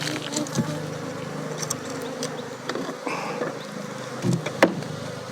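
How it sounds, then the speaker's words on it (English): Honey bees from a package of bees held in a box buzz continuously at close range, a dense steady drone with small swells and a couple of brief bumps near the end. "what I've got is a box of bees."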